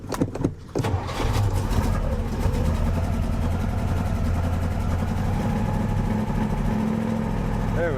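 A 1967 Buick GS 340 engine catches and settles into a loud, uneven rumbling run with a couple of unhappy plugs, close by, after a short sputter at the start.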